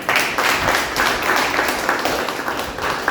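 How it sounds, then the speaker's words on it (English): Club members at a Toastmasters meeting break into a round of applause, a dense, steady wash of clapping lasting a few seconds, fairly loud and close, with a faint voice or two mixed in. "let's have a big round of applause"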